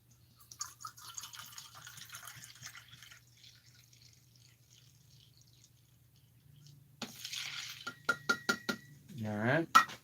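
Apple cider vinegar measured out by the cup in a home kitchen: quiet clinks and drips, then a short burst of sharp taps and a pour whose pitch climbs as the cup fills.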